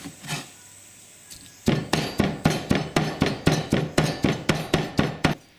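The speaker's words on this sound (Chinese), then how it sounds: "现在把肉剁碎" A cleaver chops pork into minced meat for a bitter melon stuffing, about fourteen loud, even, rapid thuds on a board after one or two early knocks, close up with no talking.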